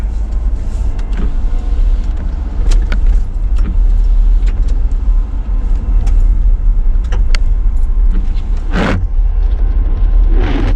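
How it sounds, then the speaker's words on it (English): Inside a running car, a steady low engine rumble with scattered clicks and knocks, a washer spray whoosh and wipers scrubbing across the glass near the end. "We're going to have to give that windshield a little quick wash"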